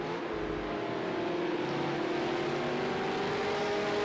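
V8 Supercars race cars drone around the Ruapuna Park circuit, a steady engine roar with a sustained tonal whine that shifts slightly in pitch, continuous and moderately distant.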